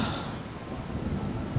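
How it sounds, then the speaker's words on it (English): Thunder rumbles through a rainstorm in Skyrim Special Edition, a broad, steady wash of rain hiss over a deep low roll. It stays loud and continuous, with no voices. "Yeah, it's thunder."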